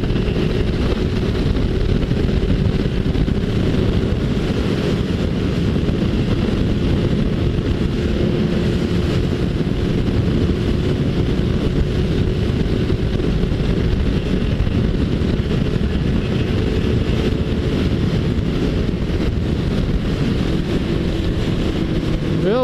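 Continuous loud engine drone with heavy wind rush as a Suzuki Bandit 1250 motorcycle accelerates hard, cruising at speed on the Dutra highway.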